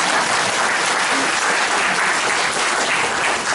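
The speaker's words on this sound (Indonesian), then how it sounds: "jangan lupa kita memberi aplaus" Dense, steady audience applause fills a seminar hall on meditation and mental health, a loud continuous wash of many hands clapping with no gaps.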